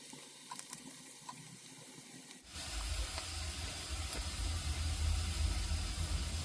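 Finely chopped onion sizzles in hot oil in a pan, with a bay leaf, while cooking a soybean and potato curry. The pan is quiet at first, then a loud, steady frying hiss begins and continues to the end.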